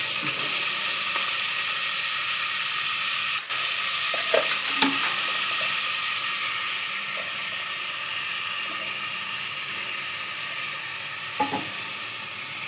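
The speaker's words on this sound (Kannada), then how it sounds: "ಟೊಮೊಟೊನ ಹಾಕಿ ಚೆನ್ನಾಗಿ ಫ್ರೈ ಮಾಡಬೇಕು ಕೈ ಆಡ್ತಾನೆ ಇರಬೇಕು" Tomatoes frying with browned onions in a pan for Mandya-style palak pappu, a loud, steady sizzle with occasional spatula scrapes and clinks while being stirred, close up and without speech.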